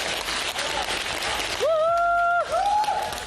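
Audience clapping on The Kapil Sharma Show set, a soft wash of applause that gives way midway to sustained whistle-like electronic tones over the fading claps.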